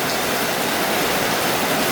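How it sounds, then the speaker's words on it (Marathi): Heavy rain pours steadily in Kerala as a dense, continuous broadband wash, loud and close, with no voices over it. "किती जोराचा पाऊस सुरू झाला बघा केरळमध्ये"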